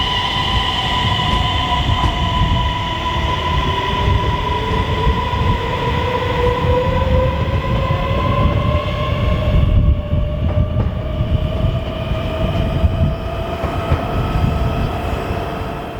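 A Danish DSB ET electric train passes close by with a loud, steady rumble of wheels on rails and sustained whining tones that slowly shift in pitch as it goes by.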